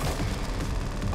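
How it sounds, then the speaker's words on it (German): An anti-aircraft flak gun in a VR arcade shooter fires a dense, continuous rumble of rapid booming shots, loud and close throughout. "Ah ja, mein Flakgeschütz."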